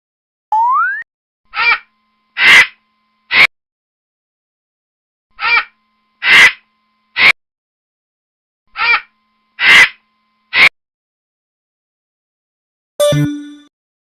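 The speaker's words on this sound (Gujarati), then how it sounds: "હવે આપણે ગીધનો અવાજ સાંભળીએ" A vulture gives a series of short, harsh calls in three groups of four with even pauses between them, clean and close against silence; a brief rising tone comes before the calls and a short burst follows them.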